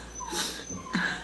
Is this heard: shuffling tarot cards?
no